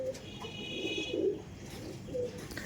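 Andhra pigeons coo softly in a loft, a few low throaty calls rising and falling over faint background noise, close and quiet.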